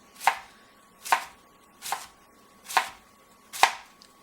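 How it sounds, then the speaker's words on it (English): A knife chops vegetables into thin strips on a board, five crisp, evenly spaced strokes close by with quiet pauses between them. "I'm just going to start chopping here."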